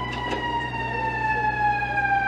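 Emergency vehicle sirens wail steadily along a Toronto city street beside a station construction site, sustained loud tones sliding slowly downward over continuous traffic rumble.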